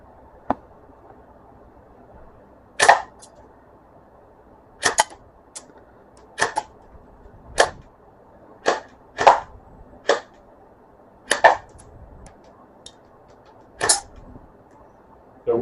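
Airsoft M4 rifle fired on semi-automatic, about a dozen sharp single snapping shots at irregular intervals, close and crisp over a quiet background.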